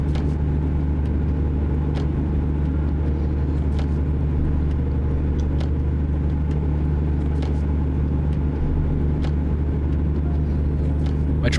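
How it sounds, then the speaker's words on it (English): A truck engine in American Truck Simulator drones steadily and loudly for the whole stretch, a constant low rumble while cruising at a capped speed, with occasional faint clicks and no talk. "My truck does not want to go any faster."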